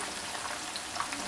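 Fish frying in oil in a pan until golden and crisp, a steady low sizzle with faint crackles running alone throughout.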